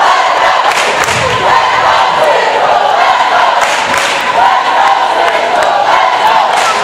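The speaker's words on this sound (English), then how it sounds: "They're making a lot of noise." A loud, packed crowd roaring and cheering at a high school varsity basketball game in a gym, a constant dense wall of voices with occasional thuds and shouts rising out of it.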